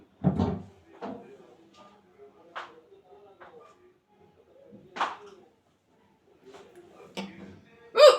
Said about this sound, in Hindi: ये है मेरी असली रियल हिचकी।